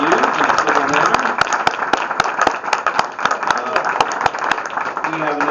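Audience applause for candidates at a forum in the Monticello Library, steady dense clapping from a room of people that holds through the whole stretch, with a voice coming in faintly near the end.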